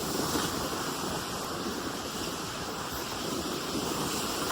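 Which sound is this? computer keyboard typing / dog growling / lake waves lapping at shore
lake waves lapping at shore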